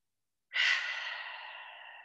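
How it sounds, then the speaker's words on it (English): A single slow exhale through the mouth during a yoga breathing exercise, soft and close, starting abruptly after silence and tapering off gently. "breathe in through the nose and out through your mouth"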